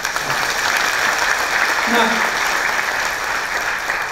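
Audience applause at a corporate success talk, dense steady clapping filling the hall throughout, with a brief word spoken over it.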